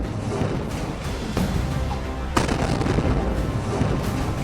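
Combat fire from a rocket launcher attack on soldiers inside a room: a rough, noisy barrage with several sharp cracking bursts and booms, the strongest blast coming late and followed by continued rumbling noise.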